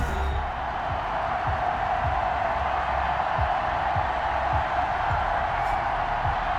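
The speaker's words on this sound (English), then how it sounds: "This crowd is ready as their guys get set to match up between the Buffalo Bills" A stadium crowd cheers in a steady, loud roar in Madden 21 ahead of a Buffalo Bills versus Miami Dolphins game, the broad crowd noise continuing throughout.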